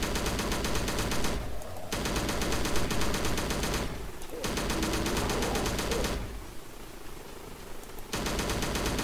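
Video game gunfire with the music cut out: loud, continuous automatic shooting in a dense wall of shots, broken by a few brief lulls, with no talking.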